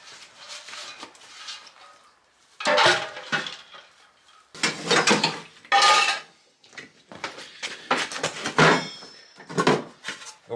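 Aluminium saucepans with their handles removed clatter and clank as they are handled and tossed together at scrap sorting, in several loud metallic bursts separated by short pauses.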